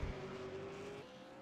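A damaged race car engine in a V8 Supercar racing video game at Oran Park sustains a strained, steady tone for about a second and then drops in pitch, with faint tyre noise underneath and no talking.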